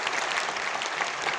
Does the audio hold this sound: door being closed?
no